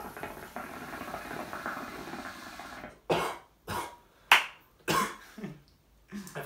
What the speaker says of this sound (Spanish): Ya os digo yo que yo creo que voy a toser.